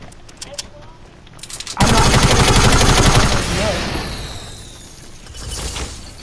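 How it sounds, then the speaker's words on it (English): A player's gun firing in a video game, a sudden loud sustained burst of rapid gunfire that fades into a ringing tail, with a brief spoken word in the clip. "You heard me shooting my gun?"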